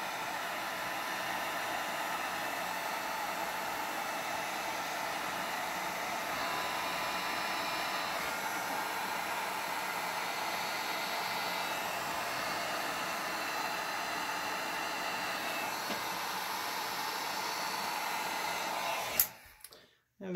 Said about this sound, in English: My biggest problem with my heat gun is actually touching it to my epoxy.